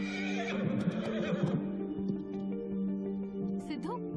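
A horse gives a loud, long whinny that trails off, with light hoof clops and people talking over it, all under a steady background hum.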